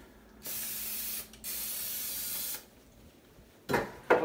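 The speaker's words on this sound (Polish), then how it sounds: "Tu mam olej w sprayu." Cooking oil spray hissing from an aerosol can in a home kitchen, two steady bursts of about a second each, close and alone, followed by brief clatter.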